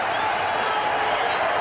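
A cricket crowd in a packed stadium roars and cheers after a six in a 1999 Sharjah Cup match between Pakistan and India, a steady dense wash of noise throughout.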